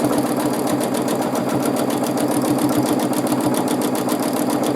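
A sewing machine runs continuously at steady speed while free-motion quilting extended swirl patterns, its needle making a rapid even rhythmic chatter close by.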